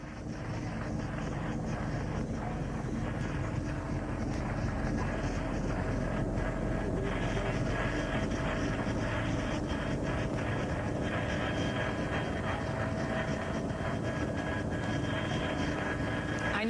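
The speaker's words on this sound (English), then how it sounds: "the video shows the chopper flying close to and above the Twin Towers right after they were hit" An NYPD helicopter flies near the Twin Towers in New York, a constant loud roar of engine and rotor noise heard from on board for the whole stretch, dense and unchanging, with no voices.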